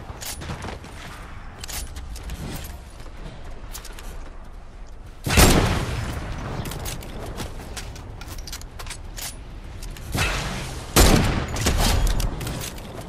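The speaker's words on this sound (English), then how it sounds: "somebody's shooting" Gunfire in the Fortnite video game, with repeated bursts of shots running under the whole stretch and a few louder, closer volleys standing out, without any talk.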